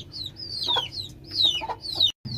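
A hen clucks close by in repeated short calls, with a faint background murmur between them.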